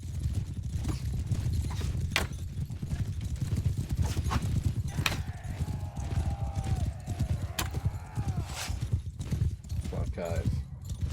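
Clip-clop of horse hooves in Mount and Blade Bannerlord 2, a steady run of hoofbeats under constant battle noise with a horse whinny partway through; someone talks over it throughout.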